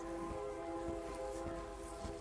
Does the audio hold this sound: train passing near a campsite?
yes